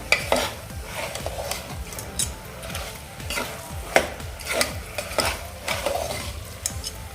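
Jaggery is stirred into puran poli filling in a pan with a spoon that scrapes and knocks in an uneven rhythm over a faint sizzle, close and with no speech.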